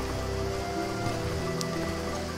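Steady rain patter in a horse-riding stable video game, a continuous even hiss of drops with a low background hum, moderately loud throughout.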